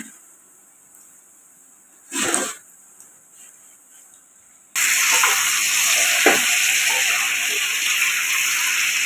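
Two kilos of chicken hit a pan of browned ginger-garlic paste for white korma; after a brief splash, a loud, steady sizzle of frying takes over and continues unbroken.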